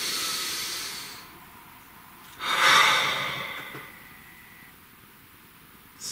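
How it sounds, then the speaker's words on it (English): A deep breath drawn in slowly, then a long airy exhale, close and breathy, standing alone with soft hiss around it and another intake starting at the very end. "Please take a nice deep breath."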